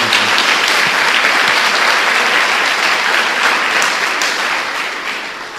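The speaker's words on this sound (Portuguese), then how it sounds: "Dê uma salva de palmas a Jesus." Loud sustained applause from a large church congregation, steady clapping that fades slightly toward the end.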